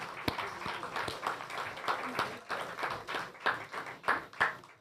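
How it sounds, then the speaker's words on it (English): An audience claps at a land regularization handover ceremony in Upper Monkey Hill: scattered, uneven hand claps and taps, sparse rather than a full ovation, growing slightly in the later part. "Please join with me in applauding the government for this important undertaking."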